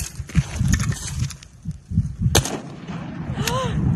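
A single sharp gunshot cracks out at target shooting in the high desert, standing out from steady wind and handling noise around it, with brief muffled voices.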